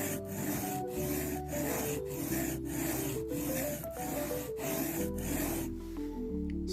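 A MKM TPF knife is stroked across a cheap diamond sharpening plate in a regular series of about nine scraping passes, close and even, over a steady background hum.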